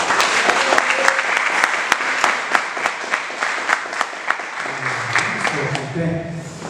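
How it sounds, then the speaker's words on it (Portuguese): A church congregation claps steadily for several seconds at a Bible study, sharp overlapping claps at a regular rhythm, with a few voices rising near the end as it fades. "Palmas que exaltam Jesus."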